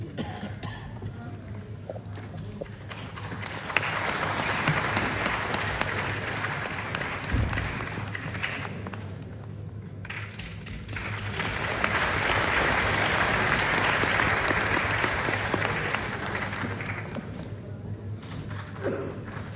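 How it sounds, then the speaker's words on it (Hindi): Sustained applause from a large audience welcoming a Law and Justice Minister at a formal event, steady clapping that swells twice, with scattered thumps and a brief lull between waves. "जोरदार तालियों से स्वागत, वंदन, अभिनंदन।"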